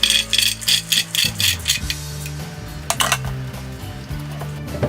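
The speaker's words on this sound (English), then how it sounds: "what I'm going to do first is add my nuts to this blender." Hard walnuts clatter and rattle into a blender in several quick bursts, then a few scattered clinks follow.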